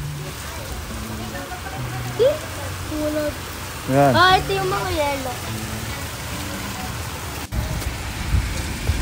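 Cold rain falling outdoors, a steady, close hiss of drops spread across the whole clip, with people talking over it now and then.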